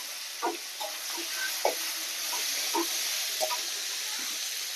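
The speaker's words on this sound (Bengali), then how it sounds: "এরপর ডাঁটাগুলো ভেজে নেব।" Tender drumstick (sajne data) stems fry in oil with a steady, bright sizzling hiss, broken by faint scattered pops and crackles, with no talking.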